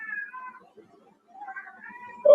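A house cat meows in short, close, fairly loud calls that come in two bursts with a brief pause between them, followed by a sharper cry at the end.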